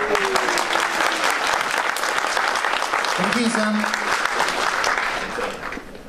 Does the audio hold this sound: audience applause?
yes